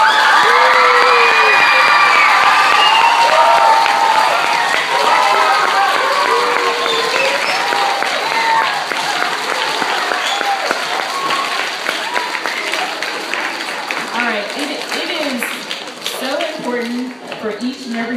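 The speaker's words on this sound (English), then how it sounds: "we need one super big round of applause for yourself" Audience applause and cheering at a talk: a loud, steady roar of clapping mixed with whoops, shouts and crowd voices that holds throughout and thins slightly near the end.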